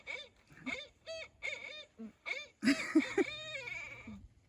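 A series of barred owl hoots, several spaced calls followed by a louder wavering caterwauling burst, fairly close with no other voices.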